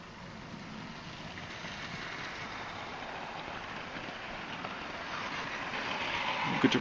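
A locomotive hauls a train at a railway festival, heard as a faint, distant rumble that grows slightly louder toward the end, with outdoor ambience and no talking.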